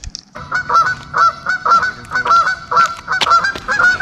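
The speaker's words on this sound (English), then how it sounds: "even the geese are excited" Geese honk repeatedly in loud, nasal bursts at a steady, regular pace, fairly close, with no talking.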